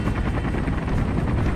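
A helicopter arriving in a Call of Duty Black Ops campaign mission, loud close rotor thumping in a fast steady beat, with no voices over it.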